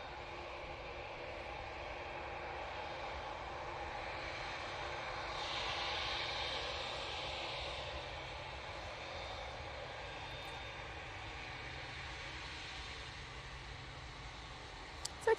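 Aircraft engines whine and roar at a distance across Manchester Airport, a faint, steady drone that swells slightly midway and then holds level.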